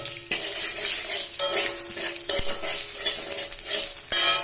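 Cumin seeds dropped into hot oil while cooking lentils with bottle gourd greens give off a steady, loud, close sizzle with faint stirring scrapes throughout.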